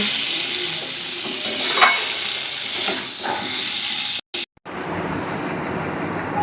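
Pointed gourd curry cooking in a pan on the stove, giving a steady close sizzle and hiss with a couple of brief stirring clatters before the sound cuts out briefly near the end.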